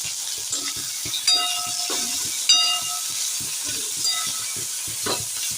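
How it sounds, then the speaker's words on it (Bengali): Carrots and cauliflower sizzle in a pan for vegetable dal, a steady hiss of frying broken by a few louder spatters and short scraping stirs. "এবার গাজরটা দিয়ে দিচ্ছি, গাজরটা হালকা করে ভেজে নেব"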